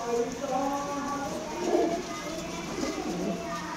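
Pigeons cooing softly among a flock of about 40 birds, low murmuring calls overlapping under a steady background hum, with someone talking nearby.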